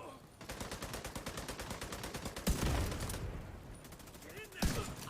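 Rapid automatic gunfire from The Division 2 video game rattles in long sustained bursts, broken by a couple of heavier booming shots, with a voice speaking over the shooting.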